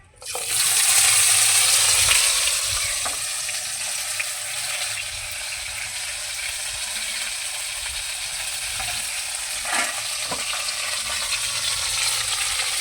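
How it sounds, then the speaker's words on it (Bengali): Potatoes dropped into hot oil tempered with black cumin seeds for a Bengali vegetable dish: a loud burst of sizzling at first, then settling into a steady, close frying hiss with occasional stirring sounds. "হাফ চামচ কালো জিরা ফোড়নটাকে একটু নাড়াচাড়া করে নেব এখন দিয়ে দিব আলু"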